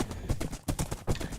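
Horse hooves clip-clop in Minecraft as a horse is ridden, a quick run of close, rhythmic thuds over about a second and a half.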